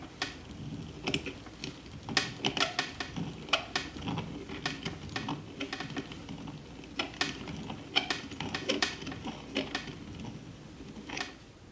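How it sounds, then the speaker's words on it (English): Deburring tool scraping burrs off the cut end of copper pipe, a quiet series of short scratchy metal shaves in uneven bursts, heard close and alone without speech. "This is a deburring tool, and this is used to shave off those burrs."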